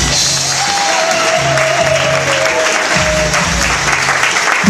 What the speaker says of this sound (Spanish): le brindamos un aplauso fuerte en DAF